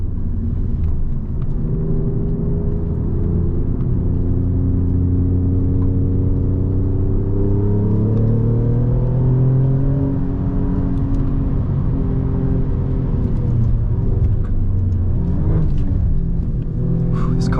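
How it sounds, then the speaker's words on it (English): A loud, steady engine of a 2024 Alfa Romeo Giulia Quadrifoglio drones from inside the cabin on a race track, its pitch climbing and then dropping sharply at a quick ZF gear shift. "This ZF just absolutely fires off gear changes."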